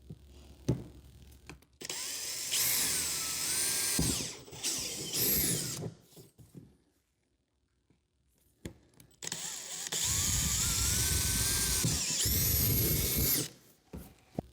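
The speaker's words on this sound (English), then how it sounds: "Now we'll go ahead and drill our holes." Power drill boring holes in a DIY 32-gallon vortex fog chiller: two loud, sustained whining drill runs, each several seconds long, with rising motor pitch, separated by a quiet pause and followed by brief handling clatter.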